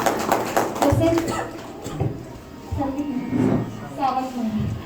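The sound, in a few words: audience applause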